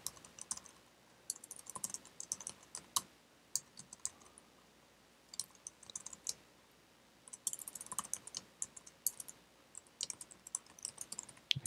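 Rapid, uneven typing on a computer keyboard during a Node.js programming session, with clustered clicky keystrokes, brief pauses and bursts of faster key presses, fairly close and with no talking.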